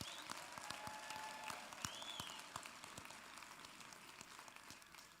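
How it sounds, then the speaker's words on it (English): Audience applause at a university graduation ceremony for a Faculty of Science and Agriculture, heard as faint, distant, continuous clapping from a large crowd with scattered sharper claps. "A round of applause."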